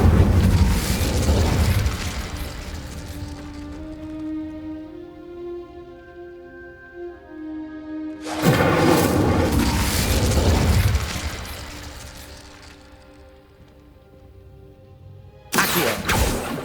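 Incendio fire spell cast in Hogwarts Legacy, a loud whooshing burst that fades into a tonal hum, then a second fiery blast around the middle and a third abrupt one at the end, with no talking.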